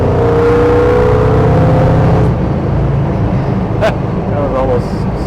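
A 1956 Chevrolet Bel Air two-door hardtop accelerates hard on the road, its engine a loud, steady drone that shifts in pitch partway through, heard from inside the car with a voice speaking over it.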